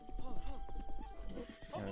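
Galloping horse hooves in a Zelda video game, a quick rhythmic clip-clop with a whinny, heard steadily under game music and a person talking throughout.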